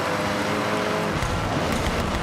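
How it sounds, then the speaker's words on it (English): A turbocharged car engine in Forza Horizon roars steadily at close range, its pitch shifting as it pulls hard through a rally-style run with no voices. "You can hear the engine has more power."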